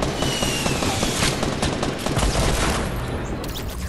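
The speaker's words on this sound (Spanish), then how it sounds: "Deja de disparar." Sustained, loud automatic gunfire in the Fortnite Battle Royale video game, a dense continuous fusillade of overlapping shots with no pauses, close and dominant throughout.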